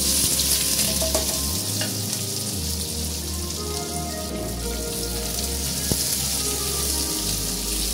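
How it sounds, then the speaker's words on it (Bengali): Chopped onion frying in mustard oil in a kadai, with panch phoron, dried red chilli and bay leaf already in the oil, gives a steady, close sizzle and crackle that runs the whole time without talk. "পেঁয়াজটা একটু ভাজা হবে"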